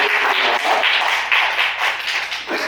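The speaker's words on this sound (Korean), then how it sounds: "우리 하나님께 영광의 박수를 드리겠습니다" A congregation claps together during a Korean church worship service marking the church's seventh anniversary, a dense, steady wash of many hands swelling in waves with no talk over it.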